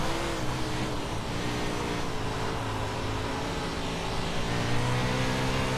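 A 410 winged sprint car engine roars steadily in iRacing on a dirt track, a dense, sustained drone with layered harmonic tones and no pauses, loud and constant throughout.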